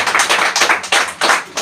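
A group of people clap in rhythm, loud and close, with steady bursts of sharp claps and no voices over them.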